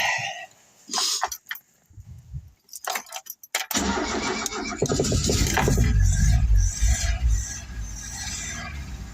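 A Mk3 Ford Cortina Estate engine cranks in short bursts, then catches and runs loud and uneven with a rough, lumpy idle, and keys jingle early on.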